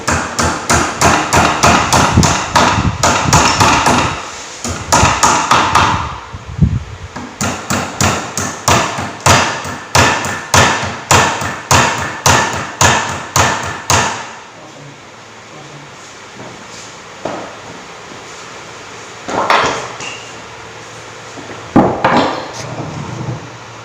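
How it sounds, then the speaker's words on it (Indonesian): Hammer blows on power steering tie rod parts, a long series of sharp metallic strikes in fast bursts and then a steadier rhythm, followed by scattered knocks and clanks of handling. "kita lelap dengan menggunakan palu dan baut"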